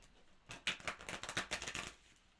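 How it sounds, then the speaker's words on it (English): A deck of tarot cards being shuffled close by, a quick run of crisp riffling flutters lasting a couple of seconds after a brief quiet start. "No more shuffling."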